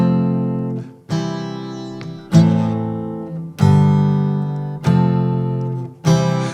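Acoustic guitar strumming a chord progression, each chord struck firmly and left to ring about a second before the next, six strums in steady rhythm, close and alone.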